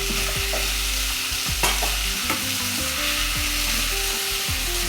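Potato and carrot sizzle steadily in a pan while being sautéed for chicken stew, with repeated scraping stirs over the constant frying hiss and no voices.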